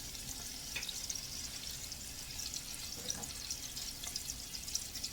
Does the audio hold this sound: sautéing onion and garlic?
yes